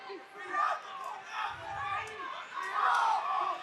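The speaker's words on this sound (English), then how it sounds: "Crowd's getting into it here." Spectators at a Sparta MMA bout shout and cheer in rising and falling waves, a fairly close, lively crowd roar with mixed voices that swells toward the end.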